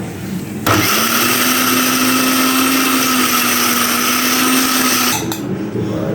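An electric spice grinder pulverises whole spices such as black and green cardamom and bay leaves into a finer masala, a steady loud whirring motor that runs for about four and a half seconds and then stops.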